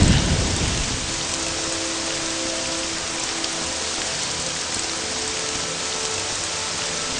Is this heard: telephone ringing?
no